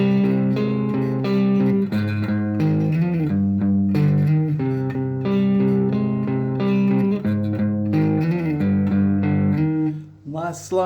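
An electric guitar with heavy distortion plays an intro riff, a loud, sustained, steady chugging line with slides, carrying on continuously until a short break near the end.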